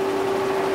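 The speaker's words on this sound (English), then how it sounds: "arbor running at about 93 RPMs" A milling machine arbor turns at about 93 RPM on a steam locomotive bearing wedge job, producing a steady close mechanical hum with a constant tone and no talking.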